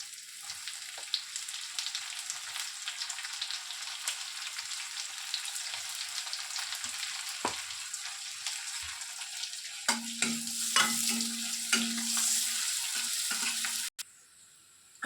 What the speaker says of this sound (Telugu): పోపి గింజలు కాస్త వేగుతూనే మనం కట్ చేసి పెట్టుకున్నటువంటి ఆనియన్స్ని వేసేసుకోవాలి